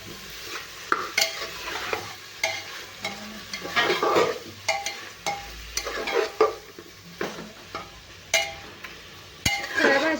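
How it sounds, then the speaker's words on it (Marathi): Cauliflower, carrot and potato sautéing in oil for veg pulao, a soft sizzle under repeated rhythmic scrapes and stirs of a spoon against the pan, close and fairly loud. "बटाटो सगळ्या भाज्या टाकून थोड्याशा भाज्या आपल्याला परतून घ्यायच्या आहेत"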